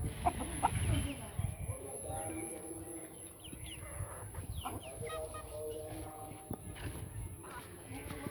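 Chickens cluck close by amid farmyard noise on a farm with pigeons while people talk over them.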